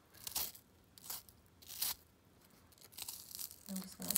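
Knife slicing through onion a little at a time, with crisp tearing crunches arriving in separate bursts about every half second to second, close and fairly quiet.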